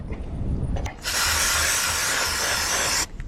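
Brake cleaner sprayed from an aerosol can onto a Mash 125 motorcycle part during an oil change, one loud continuous hiss of about two seconds, close to the microphone.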